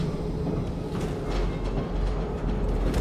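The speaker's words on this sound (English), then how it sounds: "Train's got power. Let's find the controls and see if it moves." Train in Wolfenstein II powering up and beginning to roll, a steady loud rumble with faint rattling clatter throughout, no voices.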